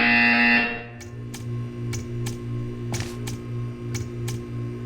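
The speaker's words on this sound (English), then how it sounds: "You will hear a buzzer." A buzzer in the video game Portal 2 sounds in repeated short electronic pulses, about nine sharp bursts at a steady rhythm over a low humming drone, with no talking.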